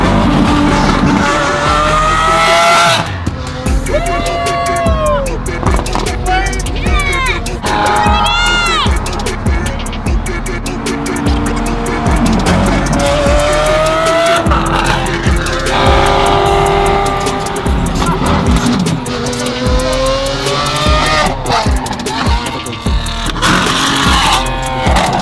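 A Lamborghini Huracan, a Mercedes and several Lamborghini SVJs race together, with loud revving engines and squealing tires sweeping past, and excited voices and crowd noise mixed in throughout.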